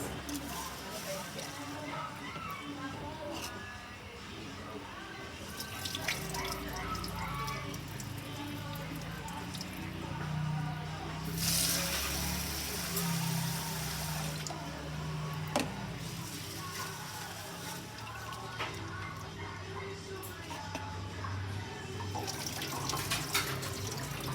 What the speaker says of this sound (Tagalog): Hugasan ang bigas dalawang beses o higit pa depende sa uri ng bigas.